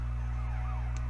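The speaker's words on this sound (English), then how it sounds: "I think that's a fire truck." A fire truck siren passes outside in Chicago, its wailing tone sweeping up and down continuously and fairly loud above a steady low hum, with no talking.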